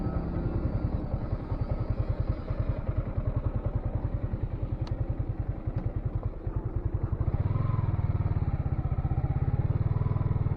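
A Yamaha Sniper 155 VVA motorcycle is ridden at steady speed, its engine a close, loud, rapid pulsing drone that rises slightly in pitch and grows fuller near the end.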